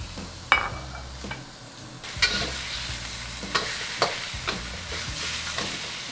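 Ground pork drops into hot oil in a wok over medium-high heat, bursting into a close sizzle with sharp clattering stirs and scrapes at irregular intervals.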